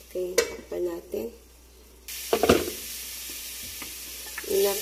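Chicken pieces for a spicy chicken curry sizzle in a pan, first with a few scraping stirs, then a sudden steady hiss of frying broken by clattering stirs.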